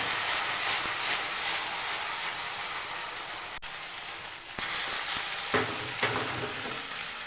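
Lote fish fry in a wok with a loud, continuous oily sizzle and crackle, broken by a few clattering stirs and turns near the end.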